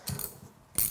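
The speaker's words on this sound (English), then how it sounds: "we take the 70 mil wrench" A 70 mm wrench ratchets and clicks against the housing of a non-return valve during maintenance, with two short bursts of metallic clicking separated by a quieter pause, heard close up with no talk.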